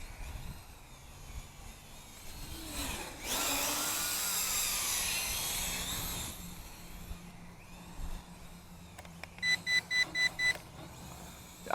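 A steady whirring drone from a WLToys Q323B toy drone fills the middle stretch, then a series of short, evenly spaced electronic beeps ring out near the end.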